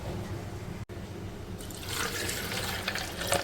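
Water poured from a glass over ice cubes in a container, a soft trickling splash that starts partway through and continues steadily, fairly quiet and close.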